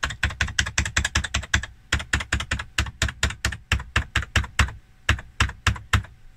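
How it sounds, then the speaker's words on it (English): Keys pressed in rapid succession on an Oric Atmos home computer keyboard, a dense run of crisp, close plastic clicks with a brief pause midway, heard alone. "But when we touch any of the keys,"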